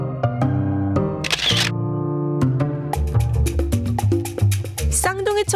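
Crisp camera shutter clicks fire in quick bursts during an outdoor spring shoot in Yanggu, with sharp repeated snaps mixed in with voices and background music.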